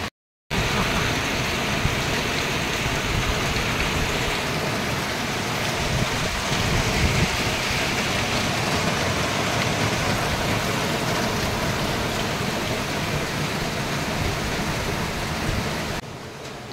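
Heavy rain falling hard outdoors, a dense, loud, unbroken hiss that holds steady throughout with no talking.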